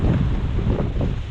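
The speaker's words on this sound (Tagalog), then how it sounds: "Lakas ng hangin ngayon ah." Strong wind buffets the microphone in a continuous low roar, rumbling and gusty for a brief moment with no voices.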